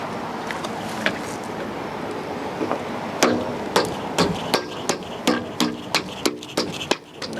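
An end cap is hammered back onto the rear bumper of a Winnebago Minnie Winnie 31H RV, a series of sharp metallic knocks that grow more regular and close together, nearby and distinct over outdoor background noise.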